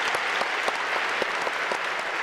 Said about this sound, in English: Totally worthy of applause.